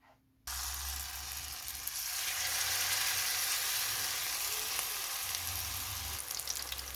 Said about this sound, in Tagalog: iprito na natin guys